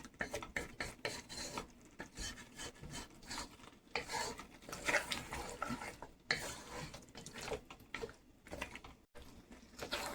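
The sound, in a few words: lamb chops being stirred in masala gravy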